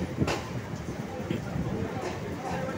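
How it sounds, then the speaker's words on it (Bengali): Local train pulling into Park Circus station in Kolkata, a low rumbling roll with scattered clanks and rattles, fairly faint and steady throughout. "আমাদের ট্রেন চলে এলো পার্ক সার্কাস স্টেশনে"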